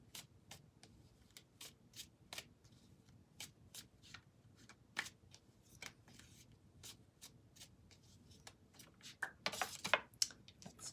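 Tarot cards being shuffled and drawn in a card reading: repeated crisp flicks and riffles at an irregular pace, close and soft in a quiet room, building to a busier rustling flurry near the end.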